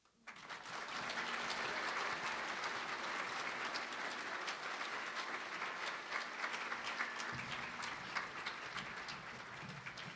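Audience applause at a fundraising breakfast, a sustained wash of many hands clapping that swells quickly and holds steady without any talking.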